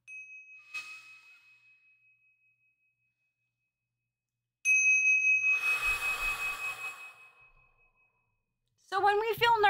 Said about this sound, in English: Hit us with that chime to breathe in.